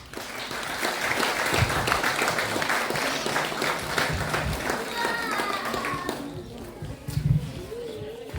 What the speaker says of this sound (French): Donc veuillez applaudir s'il vous plaît.